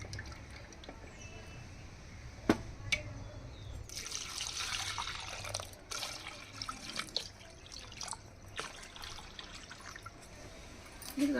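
Tamarind rinsed by hand in a little water in a bowl, with quiet sloshing and dripping, some brief splashier stirring, and a few light clinks against the vessel, all faint and close.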